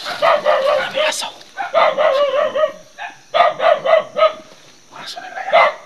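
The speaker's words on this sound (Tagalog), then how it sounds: "Aso nila yan." Dogs bark repeatedly in loud clustered bursts, with yips and a drawn-out howl, close by; a person speaks briefly in the background.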